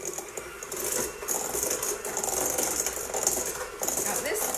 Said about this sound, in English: Now this process is called creaming the butter and the sugar together.